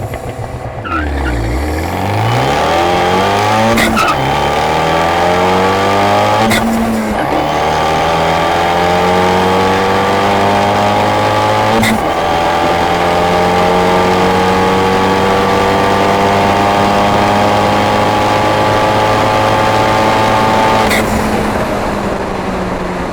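An Abarth 124 Spider accelerates hard on a quarter-mile drag run, its engine note climbing through several gears. Brief shift breaks interrupt the pull, and the engine stays loud, close and steady throughout.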